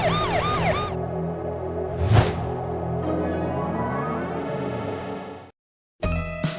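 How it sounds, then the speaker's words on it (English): A cartoon police car siren wails in a snowy forest, a loud warbling tone sweeping up and down continuously for several seconds, cutting out briefly before resuming with a different steady tone. "the police car has gotten lost deep in the snowy forest"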